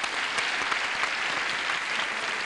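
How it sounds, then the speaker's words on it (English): A television game show studio audience gives polite applause as two players are welcomed: a dense, steady patter of many hands clapping at once, even in loudness and held for the whole stretch. "Polite applause, please, for B.J. Biani and Pam Simmons"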